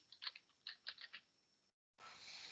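Typing on a computer keyboard, a quick burst of several light key clicks close by, followed by a brief gap of silence and then a steady hiss.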